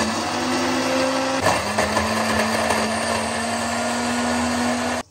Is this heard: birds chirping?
no